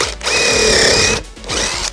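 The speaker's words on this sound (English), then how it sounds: "First, we're going to pre-drill." A power drill whirs at high speed in two close, loud bursts, the motor briefly winding down between them, pre-drilling into figured maple wood.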